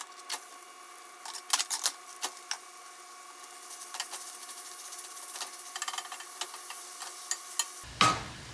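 Ground turkey browns and crackles in a hot pan while a utensil breaks it up, giving a steady sizzle broken by irregular scraping clicks, close by, before a clatter at the end.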